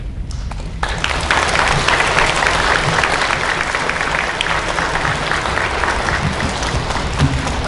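A Veterans Day crowd breaks into loud, dense applause after a short quiet moment, the clapping sustained and even for several seconds with no speech over it.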